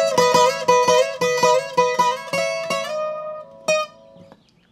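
A requinto guitar in a corridos style picks a quick run of bright, plucked notes that slides chromatically high on the neck, then slows to a few ringing notes and a final held note that fades. No one speaks.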